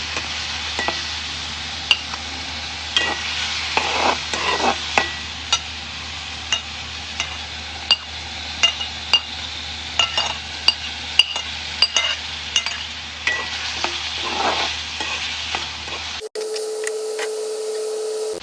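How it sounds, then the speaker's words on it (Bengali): Eggs cooking with small potatoes in a pan, stirred with a utensil: repeated sharp scrapes and clinks against the pan over a low sizzle, close and fairly loud, with no speech. "এবার কিছুক্ষণ নাড়াচাড়া করতে হবে"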